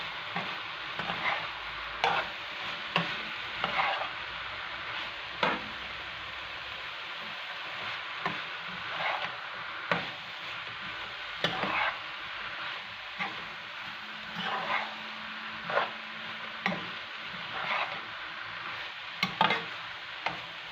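A spoon stirs and scrapes fish stuffing in a pot for red snapper, giving a string of soft irregular clinks and scrapes over a quiet sizzle, close and fairly faint, with no talking.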